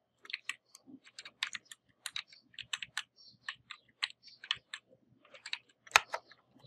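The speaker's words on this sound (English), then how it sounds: "now use WASD key for up, down, left, right, okay, not arrow keys" Computer keyboard keys, including WASD and Enter, are pressed to set controls in Cricket 19, giving close, crisp clicks in quick uneven bursts with short pauses, no voices.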